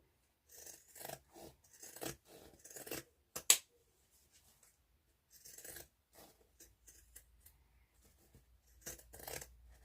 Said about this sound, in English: Just trimming the seam allowance on the curves.